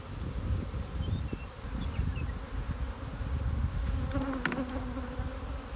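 Honey bees swarm and buzz around an opened hive while it is being split in summer, a dense steady drone close by with a few louder individual passes, no talking.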